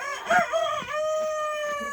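A rooster crows loudly and close by, ending in one long, drawn-out call that rings steadily to the end, with no talking.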